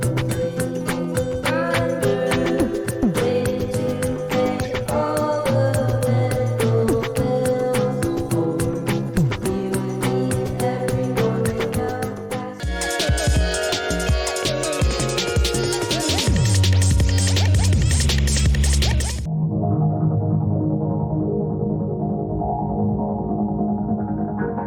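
A vinyl record plays an album: dense layered electronic pop with shifting glitchy textures and beats, a sudden change in the middle and a softer, thinner passage at the end.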